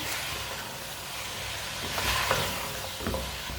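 Turnip and spinach curry is stirred in a pan, making a steady sizzling hiss with a few scraping strokes of a spoon, close and moderately loud, with no talking.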